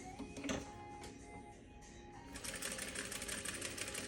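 A Juki 8100e sewing machine quilts from the wrong side of the fabric with a steady mechanical whir, faint at first and then picking up into fast, even stitching near the end.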